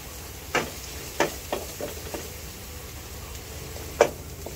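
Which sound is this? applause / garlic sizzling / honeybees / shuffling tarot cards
garlic sizzling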